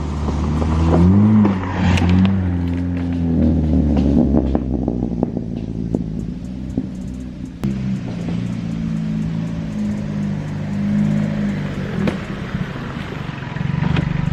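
A Subaru car drives off-road with new mud flaps fitted, its engine droning and revving loudly and steadily throughout, with bumps and rattles from the rough ground mixed in.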